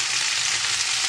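Potatoes fry in vegetable oil with a steady, dense sizzle that holds even and close throughout the short stretch, with no voices over it.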